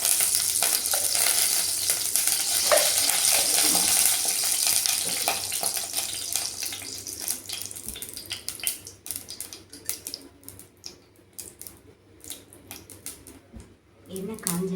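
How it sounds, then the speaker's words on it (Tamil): Oil heating in a pressure cooker for tempering gives a steady crackling sizzle that later thins into scattered pops and clicks, with a person talking faintly in the background. "இப்போ வந்துட்டு தாளிக்கிறதுக்கு 3 ஸ்பூன் எண்ணெய் விட்டு"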